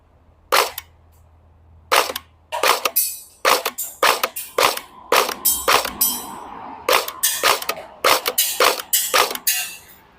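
A Tokyo Marui Colt M16A2 electric airsoft gun fires close and loud: a few spaced single shots, then quicker runs of sharp snapping reports, with no talking.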